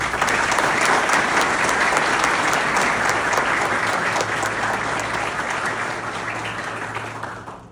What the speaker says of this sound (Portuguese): a quem eu peço uma cordial salva de palmas